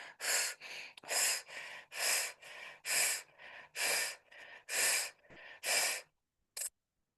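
Rhythmic deep breathing during a guided energy breathing exercise: about a dozen forceful, evenly spaced breaths close to the microphone, each a loud rushing burst, then a pause and one short final breath.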